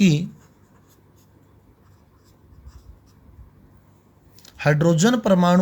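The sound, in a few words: writing out a hydrogen atom question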